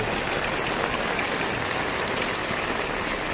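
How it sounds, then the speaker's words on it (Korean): Heavy monsoon rain pours down during a flood warning, a dense, loud, unbroken hiss of water hitting the ground with no break throughout. "비가 엄청 내리고 있습니다. 하늘이 구멍 났나 봅니다."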